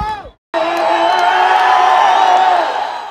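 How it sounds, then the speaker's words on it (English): A large roadside crowd in Kenya cheers and whoops loudly to welcome President Kenyatta's procession, a sustained roar of voices after a brief pause at the start. "Cheering crowds lined up the roads to welcome the president, waving the Kenyan flag and chanting his name"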